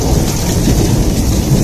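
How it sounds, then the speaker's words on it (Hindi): Heavy rain pours down during a thunderstorm in a Himalayan hill village, a loud, dense hiss with deep thunder rumbling underneath throughout, without any voices. "खतरनाक बारिश हो रही है, प्लस भाई आसमान गरज रहा है और बिजली चमक रही है"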